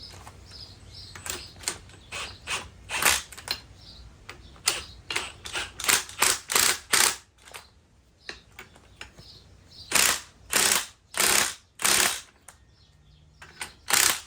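A ratchet with a 21 mm socket on an extension tightens spring compressors on a Mercedes CLS63 AMG. Quick runs of sharp, close clicking come in repeated bursts with short pauses between strokes, with no talking.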